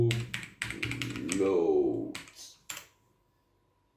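A few quick keystrokes tap on a computer keyboard, typed into a Linux Ubuntu terminal in short bursts, with a person talking over and between them.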